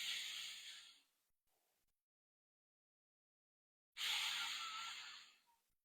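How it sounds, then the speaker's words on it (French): Slow yoga breathing: one long, close exhale fades out, followed by a two-second silence, then another long, airy breath rises and trails off. "J'inspire et j'expire à mon propre rythme."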